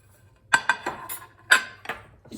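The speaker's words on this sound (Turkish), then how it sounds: "şöyle bir karıştırma kabın içerisine kırmızı biberi, yeşil biberi ve soğanları alıyorum" Chopped red and green peppers and onions drop into a mixing bowl for sea bass baked in paper, making several close, separate clunks and rattles against the bowl in a quiet room.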